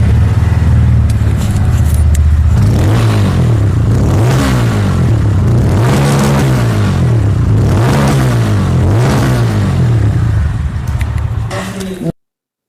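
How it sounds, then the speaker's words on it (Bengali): A Bajaj Pulsar N160 motorcycle's single-cylinder engine starts, then its exhaust is revved in about five rising and falling surges, loud and close, before cutting off abruptly. "আমি একবার গাড়িটা স্টার্ট করে দেখিয়ে দিচ্ছি।"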